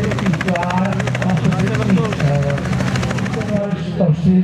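A Czech Army CASA transport aircraft coming in to land gives off a steady, pulsing engine drone that runs throughout at fairly close range, with someone talking over it.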